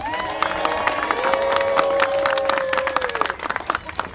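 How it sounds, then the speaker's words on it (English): An audience at the reopening ceremony of a city swim center bursts into applause and cheering, with crisp nearby claps, whoops and raised voices that fade toward the end. "I thought she'd get the best applause."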